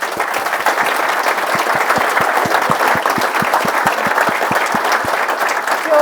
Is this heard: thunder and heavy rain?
no